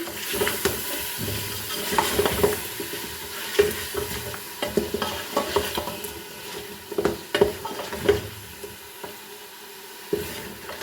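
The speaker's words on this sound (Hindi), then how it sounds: "अब फिर इसको हम भूनेंगे।" Beef seasoned with dried coriander and turmeric sizzles in a pan while a spoon stirs and scrapes it in irregular knocks, a steady near frying hiss underneath, no voices.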